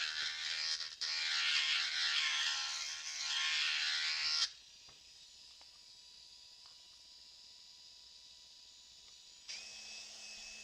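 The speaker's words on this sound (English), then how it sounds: "this time I'm going to let the Dremel do some work" A Dremel rotary tool grinds on plastic model parts, a high whining buzz for about four seconds that then drops to a quieter, steady hum and picks up briefly again near the end.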